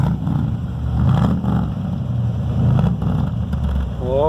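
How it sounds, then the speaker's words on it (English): Low, rumbling exhaust note from the tailpipes of a 1956 Mercury Monterey idling close by, pulsing gently with a brief rise near the end. "you can hear the beautiful exhaust note coming out the tailpipes"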